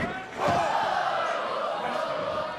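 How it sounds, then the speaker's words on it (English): A wrestling crowd at an NXT TakeOver event roars and cheers in a sustained swell that rises sharply after a brief dip, loud and continuous throughout. "Listen to this crowd."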